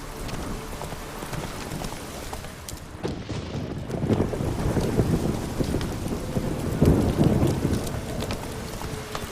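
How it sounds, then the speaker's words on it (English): Thunder and pouring rain in The Witcher 3, a continuous heavy rain hiss with deep rolling thunder swelling twice, loud and close, joined by clip-clopping horse hooves. "Lightning strike."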